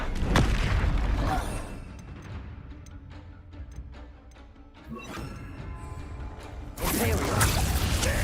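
Bombarda explosion spells go off in Hogwarts Legacy combat. Deep booming blasts land at the start, then come softer rumbles and crackles, and a second heavy burst hits near the end.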